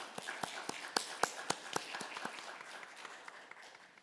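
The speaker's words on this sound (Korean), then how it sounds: "박수를 드립시다" A church congregation at a Korean anniversary Sunday service gives a round of applause, with crisp, scattered hand claps ringing out unevenly and thinning toward the end, no voices over them.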